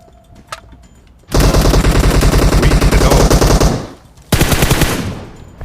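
Automatic rifle fire in the mobile battle-royale game PUBG Mobile, likely a G36C: a long, loud sustained burst of rapid shots, a brief pause, then a second burst, with no talk.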